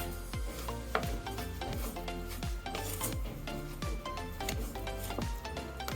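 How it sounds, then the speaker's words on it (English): A sugar and white bean puree mixture stirred in a pan while it cooks down: rhythmic, evenly repeated scraping strokes about twice a second, close and steady throughout. "Keep stirring this for at least 15 to 20 minutes."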